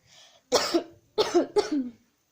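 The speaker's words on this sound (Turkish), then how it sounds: "Arkadaşlar birazcık da öksürüyorum konuşmaktan." Three close coughs, one after another, with a faint breathy sound just before the first; no speech.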